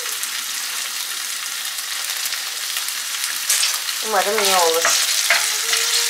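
Garlic cloves and shallots fry in oil in a pan, a steady loud hiss of sizzling close by. A voice speaks briefly over the frying near the end.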